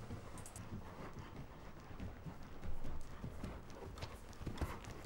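A horse's hooves beat in a steady three-beat rhythm during a dressage counter canter, faint and distant under light wind noise.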